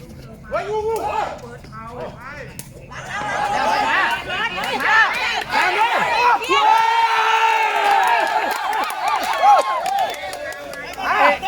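A crowd of supporters cheers and shouts loudly, mixed voices rising and swelling in waves, with excited chatter and individual yells over the din.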